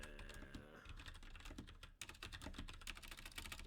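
A computer keyboard is typed on in a steady run of close, crisp key clicks that grow denser halfway through, with faint tonal background sound early on.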